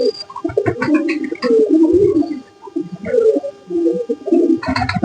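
Pigeons cooing and fluttering as they feed on rice, several birds close by in a steady stream of low, rolling coos that swell and fade over the clip.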